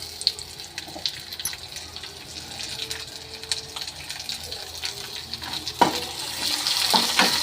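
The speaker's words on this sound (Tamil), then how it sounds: "நல்லா நிறைய எண்ணெய் ஊற்றி இந்த மாதிரி வெங்காயம் பச்சை மிளகா இதெல்லாம் தாளித்து கொட்டினா சூப்பராக இருக்கும்" Onion and green chili tempering in plenty of hot oil for paniyaram crackle and sizzle up close, broken by utensil scrapes and clatter, growing louder toward the end.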